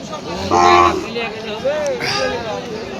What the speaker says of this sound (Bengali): প্রচুর পরিমাণে গরু সিটি হাট রাজশাহীতে